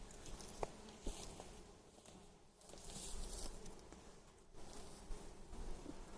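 A strong honeybee colony drones inside a hive during a varroa mite check, a faint steady hum with occasional rustles and light knocks close by.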